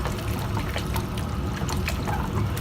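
Plain yogurt spooned and poured over chicken pieces for an Indian yogurt chicken dish, giving a steady, close, wet glopping and sloshing that runs throughout without talk.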